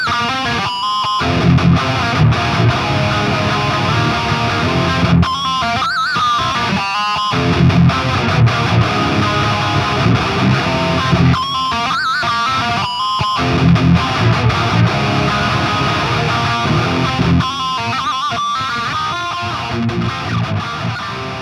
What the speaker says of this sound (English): the quad Cortex, it sounds pretty good, just as a plain old standard modeler